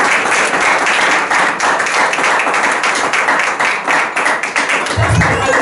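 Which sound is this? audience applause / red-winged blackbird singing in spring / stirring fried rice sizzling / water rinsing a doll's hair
audience applause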